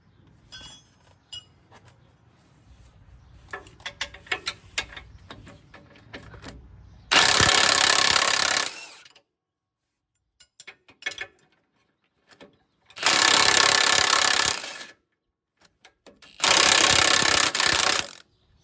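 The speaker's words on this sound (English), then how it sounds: "I'll see if I can walk it out with the impact wrench." An impact wrench works a front strut bolt on a 2007-2021 Toyota Tundra, firing three loud, close hammering bursts of about two seconds each, separated by quiet gaps and scattered metallic tool clinks, with no talking.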